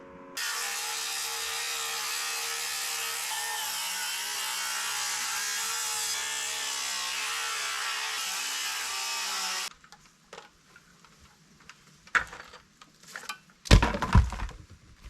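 A power saw cuts through the tops of wooden posts for an off-grid shower, a loud steady buzzing cut for about nine seconds, then stopping, followed by a few clunks and thuds of wood falling.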